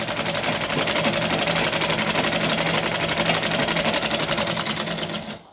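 A sewing machine runs a double line of stitching along a choli-cut blouse, its needle chattering in a fast, even, continuous whir that stays loud and close until it stops abruptly at the end.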